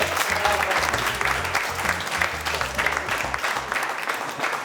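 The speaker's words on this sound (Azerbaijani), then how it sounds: "Alqışlayın da, alqışlayın." A studio audience on a comedy talk show claps steadily, sustained dense applause, loud and near, with background music beneath it.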